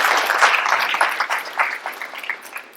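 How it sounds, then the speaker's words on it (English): Audience applause fills a room at a Sri Lankan ambassador's visit event in Houston: steady, dense clapping from many hands, fairly close, with no voices over it. "I think you should give another round of applause."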